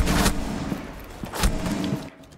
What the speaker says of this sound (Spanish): Le he pegado dos tiros.